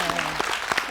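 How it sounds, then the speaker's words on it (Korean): Studio audience applause on a Korean talk show, a brief burst of clapping heard over a fading voice in about one second. "박수 한번 보내드릴까요?"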